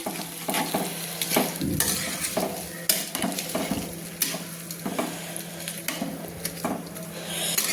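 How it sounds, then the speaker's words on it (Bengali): Pumpkin and potato curry stirred in a pan after water is added, a spoon scraping and clinking against the metal in repeated strokes over a steady bubbling simmer, close and alone without talk. "জলটা অ্যাড করে আমি ভালো করে কিন্তু নেড়ে নিলাম।"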